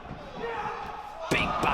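A back elbow strike in a wrestling ring lands as a sharp slam near the end, preceded by a steady hum of arena crowd noise and a commentator talking throughout.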